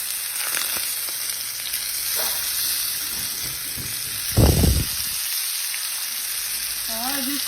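Steak searing in a hot pan with onions and mushrooms nearby, a steady bright sizzle and hiss running throughout, with one brief louder knock or stir partway.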